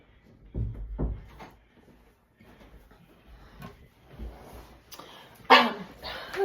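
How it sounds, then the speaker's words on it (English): A dog barks at a door indoors, a few sharp nearby barks spread through the clip, with a louder burst near the end and some faint human voice. "go get the barking dog at the door"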